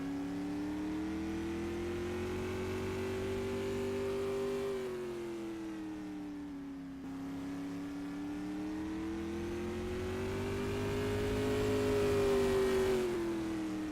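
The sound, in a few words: race car engine revving on track during time trial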